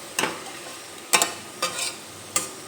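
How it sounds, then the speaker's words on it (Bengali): Stirring potol curry with spices and sugar in a pan: four separate scraping, tapping strokes of a utensil against the pan over a soft sizzle, close and fairly quiet. "চিনি দিয়ে আবারও একটু নেড়ে চেড়ে নেব।"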